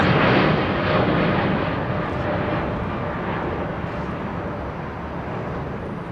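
Airliner taking off at London Heathrow Airport, a loud roaring jet engine rush that peaks early and slowly fades as it climbs away, with no talking.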